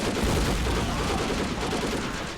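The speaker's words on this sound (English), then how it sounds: "Greek forces firing a mortar from the defensive position there." Battle sounds in Men of War: Assault Squad 2 as Greek forces fire a mortar from a defensive position, amid a dense, continuous barrage of loud overlapping gunfire and blasts.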